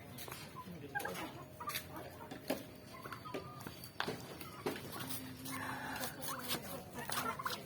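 Turkeys in a pen gobble repeatedly near and at middle distance, sharp bursty calls scattered irregularly over a quiet farmyard background, with occasional clucking fowl among them.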